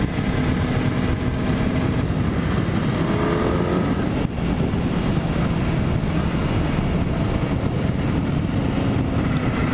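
A Kawasaki Ninja 400 with a new exhaust drones steadily while being ridden, its engine tone steady under heavy wind buffeting across the whole stretch, with no one speaking.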